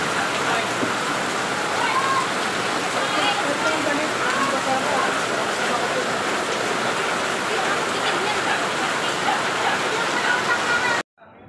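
Heavy typhoon rain pours steadily in a continuous dense hiss, close and loud for the whole stretch before cutting off abruptly at the end.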